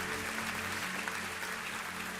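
A church congregation applauds at a live service, a steady wash of clapping filling the room at a fairly even level throughout, with no one speaking over it.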